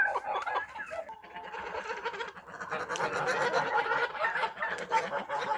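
A flock of Tula fighting hump-nosed geese in a farmyard honks and cackles continuously at close range, with overlapping nasal calls rising and falling.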